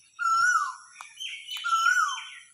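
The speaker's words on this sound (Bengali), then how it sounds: "কোকিলের ডাক শুনতে পাচ্ছেন" An Asian koel calls alone in clear, rising whistled phrases, two long swooping notes with softer calls between, close and loud, in a village.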